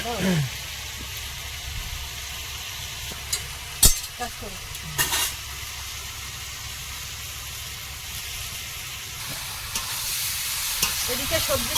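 Food sizzles steadily in a pan with a few clanks and stirring scrapes, close by, while voices speak briefly.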